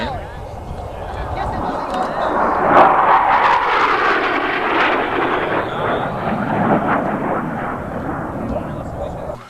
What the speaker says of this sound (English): Jet came by about 100 feet off the ground, just about blew us away here.